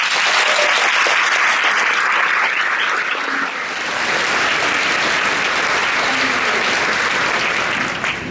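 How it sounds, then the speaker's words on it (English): A conference audience applauds state regents with sustained, dense clapping that carries on evenly from start to finish, loud and close, with no voices above it. "And now you may applaud"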